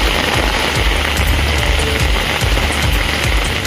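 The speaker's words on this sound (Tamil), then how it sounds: "பல்வேறு பகுதிகளில் மழை கொட்டி தீர்த்தது" Heavy rain pours down steadily over an open outdoor area, a loud, dense, continuous hiss of drops striking surfaces with no pauses and no voices.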